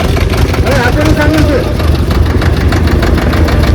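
A Sonalika tractor engine chugs loudly and steadily with a rough low rumble on a snowy mountain road near Kedarnath; a voice briefly speaks over it.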